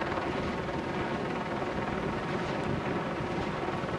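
Helicopters circling over Los Angeles, a steady far-off rotor drone blending with city air and light wind, holding an even level throughout with no voices.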